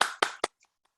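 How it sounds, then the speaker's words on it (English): Participants in an online debate club meeting clap a few times: three sharp, quick claps close to the microphone, followed by a couple of faint, scattered taps. "Let's give them a big round of applause."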